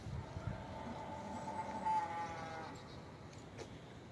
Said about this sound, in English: Sounds like there's a cow over yonder having a calf, or looking for a calf.